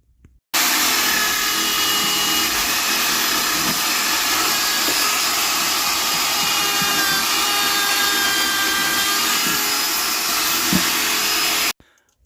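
A power tool runs continuously at a steady high-pitched whine while cutting out a rusted hole in a Mustang body panel, starting abruptly and stopping after about eleven seconds, with no talking.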